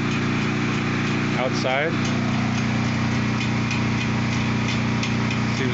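A generator engine fitted with a Honda muffler runs steadily nearby, a loud constant drone with a brief rattling burst, while a person talks over it.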